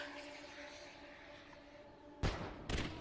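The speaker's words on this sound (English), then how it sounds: "does a big old firework in the air with the game's logo" A firework emote bursting with the logo in Final Fantasy XIV gives two sharp, loud booming cracks near the end, following a quieter stretch of steady background music.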